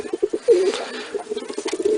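A male pigeon coos in a rhythmic series of soft, throaty notes, close and loud, with a slightly longer rolling coo near the start and no speech.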